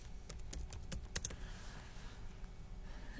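A computer keyboard clicks in a quick cluster of sharp, close keystrokes while drawing molecules in ChemDraw, then falls to a faint near-silence, with no speech.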